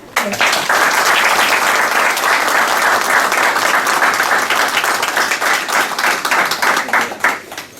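A large crowd at an iftar dinner claps loudly and steadily for several seconds, the applause swelling quickly and then tapering slightly near the end.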